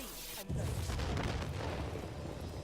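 A tremor grenade detonates in the Divinity: Original Sin role-playing game, a sudden heavy boom that kicks in abruptly and then rolls on as a dense, sustained rumble.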